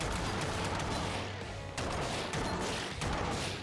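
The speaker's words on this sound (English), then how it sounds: "if the machine gun kills those guys in one shot, that seems perfect" Machine gun fire from ScourgeBringer, a dense, steady stream of rapid shots with crashing impacts, loud and continuous with brief dips in intensity.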